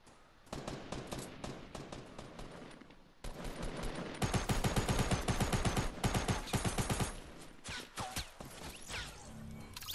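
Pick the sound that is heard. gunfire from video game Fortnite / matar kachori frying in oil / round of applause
gunfire from video game Fortnite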